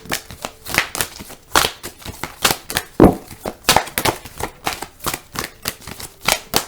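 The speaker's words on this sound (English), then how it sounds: "I take the Major Arcana and I shuffle that" Tarot cards are shuffled close up in repeated quick riffles and snaps, a rhythmic series of papery bursts with short pauses between them.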